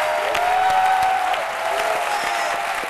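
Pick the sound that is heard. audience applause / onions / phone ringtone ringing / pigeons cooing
audience applause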